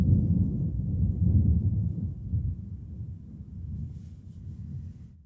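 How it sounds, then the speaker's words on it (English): Thunder from a storm outside on an ominous day in New Orleans rolls as a long, deep, low rumble that swells and fades over several seconds, heard indoors with no talk. "you can hear the thunder outside"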